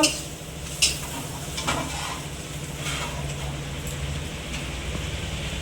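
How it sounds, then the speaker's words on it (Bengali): Figs with red chili powder being stir-fried in a pan, a moderate sizzle broken by a few scraping stirs and clinks of a spatula against the pot. "পরিমাণ মতো লঙ্কা গুঁড়ো দেব দিয়ে আবার একটু কষে নেব"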